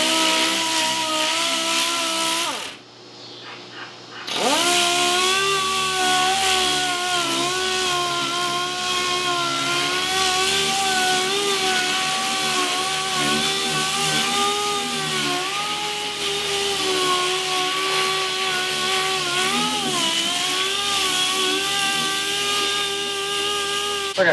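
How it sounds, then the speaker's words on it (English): A power sander works across a lowrider car body panel in a garage, producing a loud, continuous whining drone with a steady pitch. It cuts out briefly near the start, then resumes and runs on with slight pitch wavers. "So try to keep your sander flat, move it along evenly across the whole panel"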